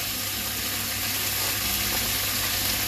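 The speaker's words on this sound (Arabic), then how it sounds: "نفضل بقى نشوح، افضل اشوح كمان" Red pepper and garlic sautéing in a pan at home give a steady, close, even sizzle that runs unbroken with no talk over it.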